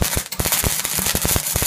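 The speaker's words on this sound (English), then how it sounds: "Just do a decent tack on it, and then we'll do the other one." Tack welding on a homemade vacuum for a saw bench, a loud rapid run of sharp crackling pops and spits lasting under two seconds, close by with no talk.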